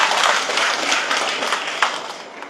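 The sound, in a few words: audience applause for Governor Oy Umali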